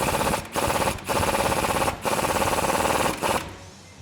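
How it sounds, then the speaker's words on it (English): A 19 socket on a swivel tightening the upper control arm on a 2009-2020 Ford F150 during a leveling strut extension install, heard as loud, continuous whirring bursts broken by a few short pauses. "I'm gonna grab my 19 socket and my swivel and tighten up the upper control arm"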